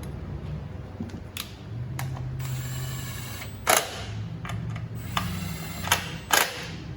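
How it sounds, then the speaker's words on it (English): A ratchet tightens the spark plug cover retaining studs on a 2009 Honda CR-V, giving soft bursts of rapid mechanical clicking with a few sharper knocks, close by and fairly quiet, with no talking. "Tighten your retaining studs."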